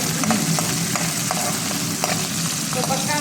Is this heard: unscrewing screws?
no